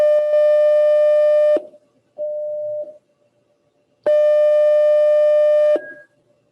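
A signal generator tone at 600 Hz, loud and steady, sounding in two long bursts of about a second and a half each with a quieter, purer stretch between them, no voices over it.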